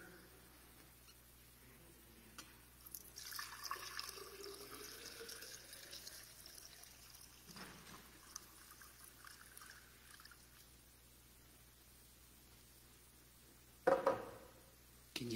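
Water poured into a container during a church service demonstration: a quiet, faint pour and trickle in a still room, followed by a brief clatter near the end.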